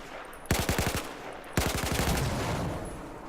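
Video game gunfire, aimed through a XiM Apex adapter with a Titan Two, comes as two loud bursts of rapid automatic shots, the second longer and trailing into a fading echo.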